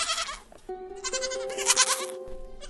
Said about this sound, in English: And you would absolutely see goats.